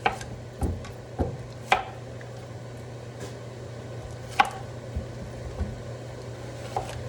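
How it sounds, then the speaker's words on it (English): Knife chopping zucchini on a cutting board for green lentil soup, a handful of sharp, irregular taps spaced a second or so apart over a low steady hum. "We're gonna chop up our zucchini."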